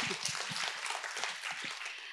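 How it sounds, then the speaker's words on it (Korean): Audience at a Seoul cultural center academy event applauding a vocal ensemble, a short, fairly quiet patter of clapping from a modest crowd lasting about two seconds. "박수로 응원드리겠습니다"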